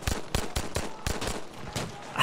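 Pistol fire in Battlefield V cracks out in a quick, fairly even volley of about eight sharp shots within two seconds, close and loud, with no talking.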